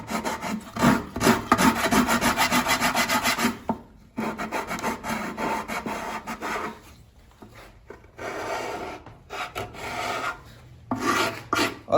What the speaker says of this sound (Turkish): bazı yerleri biraz daha zımpara yardımıyla genişleteceğim